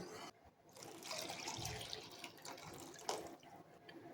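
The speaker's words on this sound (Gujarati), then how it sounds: "તો આપણે ગુલાબની પાંદડીઓનું પાણી ગાળીને રાખ્યું હતું એ ઉમેરી લઈશું।" Strained rose petal water is poured into sugar syrup for rose sharbat, a steady close splashing trickle that runs for several seconds with small surges and drips.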